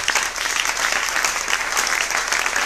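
Church congregation clapping and cheering during a worship service, a dense continuous burst of applause lasting a few seconds.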